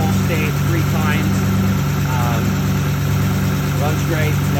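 A 1955 Ford F100 pickup's rebuilt, internally modified engine with Edelbrock intake, four-barrel carb and exhaust idles loud and close, a steady low rumble with faint voices underneath.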